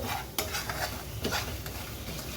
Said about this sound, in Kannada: ಇದನ್ನು ಸ್ವಲ್ಪ ಎಣ್ಣೆದಾಗಿ ಈ ಥರ ಫ್ರೈ ಮಾಡ್ಕೋಬೇಕು